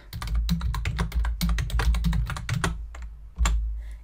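Rapid clattering keystrokes on a computer keyboard, close and crisp, a burst of typing followed by a pause and one firmer key press near the end.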